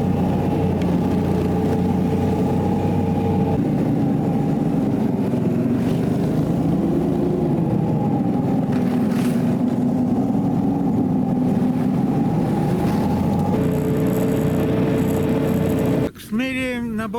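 A small towed snowmobile, a motor-dog, runs steadily nearby over fresh snow after a blizzard, its engine drone holding a constant pitch with slight shifts and a brief change near the end.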